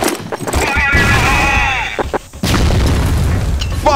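A grenade goes off with a loud boom in CrossFire, mixed with shouting voices and sharp bursts in a busy multiplayer firefight.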